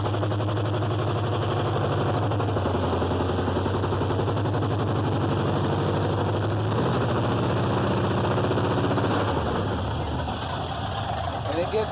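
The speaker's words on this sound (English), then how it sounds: "Rev the motor up." A car engine runs close by, rising in pitch as it is revved, dropping back, then revving again in a steady mechanical drone without voices.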